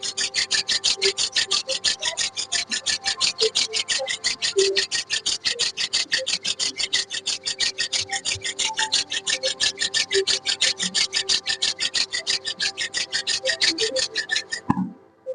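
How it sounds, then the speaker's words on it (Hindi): Palms of both hands rubbed briskly together, a fast, regular swishing rasp repeated many times at close range for about fifteen seconds before stopping abruptly, with no talking. "सबसे पहले हाथ को रब करने हैं इस तरह से।"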